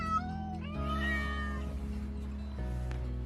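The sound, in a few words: cats meowing at a cat cafe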